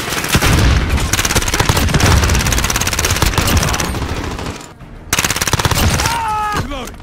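CX9 submachine gun in Call of Duty Warzone firing long, rapid automatic bursts, loud and close, with a short break before more fire and faint game sounds layered underneath.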